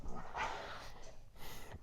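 Dogs barking indoors in the background during a gaming session, a few short yips and barks, moderately close but fairly quiet.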